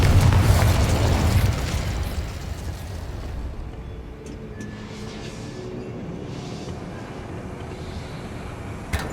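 A Confringo blasting spell goes off in Hogwarts Legacy as a loud, deep explosion that booms for about two seconds, then fades into a long, low rumble with faint crackles.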